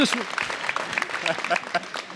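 Audience applause in a North Bay gathering for a local MPP, scattered clapping that thins out while someone speaks over it.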